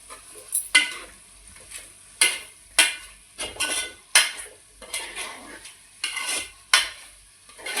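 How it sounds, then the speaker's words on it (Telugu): A spoon scrapes and clanks against a pot while chicken curry with masala is stirred, in repeated sharp metallic strokes with a faint sizzle between them, close and fairly loud with no talking. "అలా ఇదంతా పట్టేలాగా ఒకసారి అలా కలుపుకుందాం."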